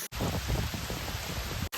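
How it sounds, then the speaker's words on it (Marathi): Heavy rain pouring down at Korigad fort in a loud, dense, unbroken roar, with no talking. "कमी झालाय पाऊस जरा थोडा"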